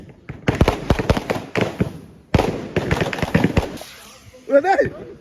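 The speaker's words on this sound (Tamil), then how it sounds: "பொங்கல் வித்தியாசமா வெடிகள் கொளுத்துறாங்க." Sharp firecracker bangs crackle in rapid irregular bursts during Pongal celebrations, with voices talking in between and a whistling shriek near the end.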